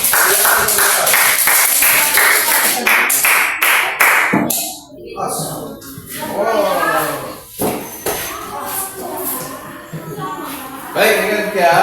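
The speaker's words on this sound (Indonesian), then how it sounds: "kita berikan aplaus untuk kelompok 1" Classroom applause for a student group after a project presentation on plastic waste, with clapping and children's voices mixed under an adult speaking, the crowd noise swelling and fading across the span.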